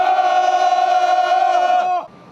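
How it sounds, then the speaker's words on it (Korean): Construction workers shout together in unison during outdoor morning exercise at a subway tunnel work site, one loud sustained collective yell lasting about two seconds before cutting off. "함성 시작!"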